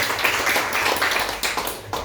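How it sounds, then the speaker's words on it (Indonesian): A church congregation applauds for Jesus during a sermon, a continuous wash of many hands clapping in a large room, steady and fairly loud, with a few sharper bursts near the end. "Berikan tepuk tangan untuk Tuhan Yesus"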